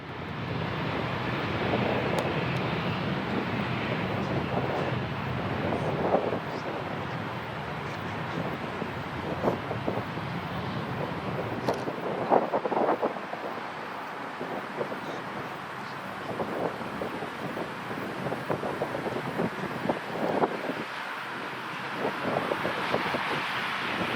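A plane struggles to lift off down a 13,000-foot runway en route to Morocco, its engine roar a steady, broad rushing drone mixed with wind buffeting the microphone for a long unbroken stretch.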